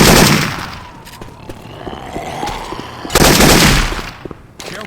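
Syphon Filter weapon sounds swapped into Left 4 Dead 2 blast out in loud bursts of rapid gunfire, a heavy volley opening and another at about three seconds, separated by quieter in-game rumble.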